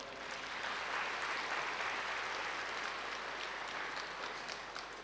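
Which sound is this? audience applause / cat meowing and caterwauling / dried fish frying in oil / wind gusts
audience applause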